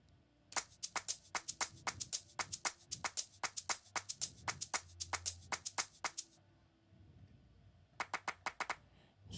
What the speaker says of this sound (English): And then we come to a clap